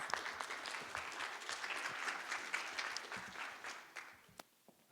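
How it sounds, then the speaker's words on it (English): An audience applauds a keynote speaker from Coca-Cola's public relations and sustainability office, steady dense clapping from a crowd that thins and fades near the end. "Please give her a big round of applause."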